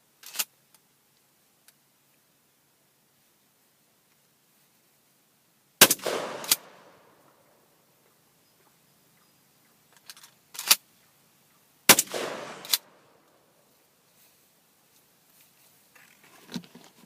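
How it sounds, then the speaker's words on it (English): An H&R Protector pump-action shotgun fires Remington heavy loads outdoors, two loud sharp blasts several seconds apart, each followed by a short decaying echo, plus faint clicks and small clatter between shots. "What I'm shooting today is some Remington heavy loads."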